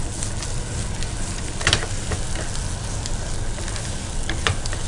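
Country chicken (natu kodi) frying in a pan with whole spices, a dense, fairly loud continuous sizzle with occasional crackles and a brief stirring clatter, no voices.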